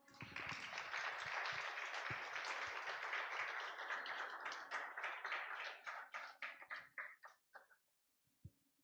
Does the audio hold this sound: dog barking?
no